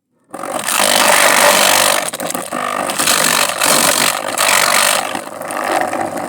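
Loud, continuous drilling grinding into a wooden attic floor, with brief dips and surges as the bit bites, close by and without talk.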